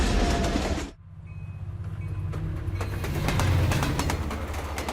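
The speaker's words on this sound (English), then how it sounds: "the train rolls east through the Canadian Rockies" A passenger train rolls along rails through the Canadian Rockies on a clear morning, steady rumbling and rhythmic clatter rising after a brief drop, with high bird-like squeals over the continuous roll.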